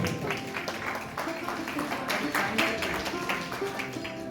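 At the opening of painter Pramod Kushwaha's art exhibition Rang Pramod 2023, a crowd claps in a steady, moderately loud wash of hand claps while voices talk underneath.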